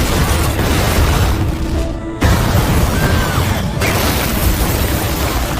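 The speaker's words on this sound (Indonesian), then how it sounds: "Ia pun meledakkan bom yang sudah dipasang di kafe" A loud, dense roar of blast noise with a sudden heavy boom partway through, rumbling and crackling throughout.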